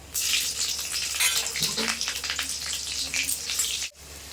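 Nigella seeds and green chillies crackle and spit in hot mustard oil, a dense, bright sizzle that holds steady for several seconds before cutting off abruptly.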